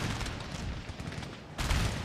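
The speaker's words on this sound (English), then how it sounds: "Oh, that rifle fire." Massed musket and rifle fire in a Napoleon: Total War battle, a dense, continuous crackle of distant volleys that swells into a louder burst near the end, with no talk over it.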